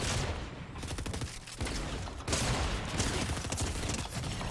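Fortnite Reload solo match gunfire, with dense overlapping shots and bursts coming from several directions at once, loud and continuous throughout with no talking.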